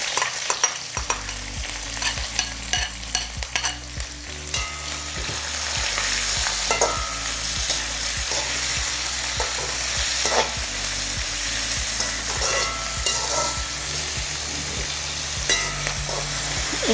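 Onions, green chilies and tomatoes frying in a pan for a Sri Lankan egg themparaduwa, with a steady close sizzle and crackle under repeated stirring and scraping throughout.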